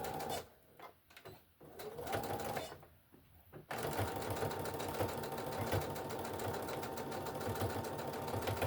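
A sewing machine stitches closed the end of a fabric walker caddy pocket, starting with a few short stop-and-go bursts, then running loud and continuous.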